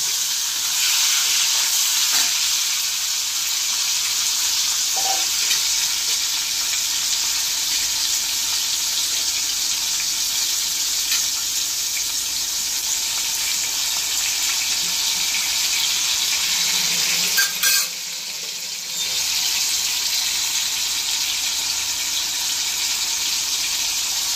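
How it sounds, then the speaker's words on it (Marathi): Tomatoes frying in hot oil in a pan, a loud steady hiss and sputter that runs almost unbroken, dipping for a moment near the end before the sizzle resumes. "तेल गरम झाल्यावर त्याच्यामध्ये टॅमॅटो टाकलेली आहेत."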